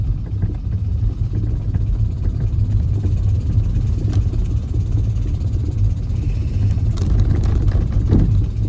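A car engine runs steadily as it is driven, a low continuous rumble with no talk, on a car without a bumper that has been driven since a flood.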